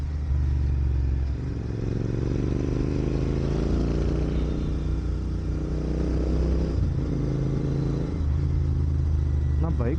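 A motorcycle rides through Hyderabad city traffic, its engine droning continuously and loudly with surrounding vehicle noise and wind.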